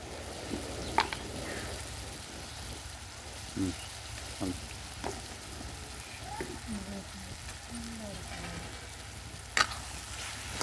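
Ridge gourd curry with chili powder simmers in a pan, a soft, continuous sizzle broken by intermittent scraping stirs and spoon taps, with a voice talking quietly over it in places.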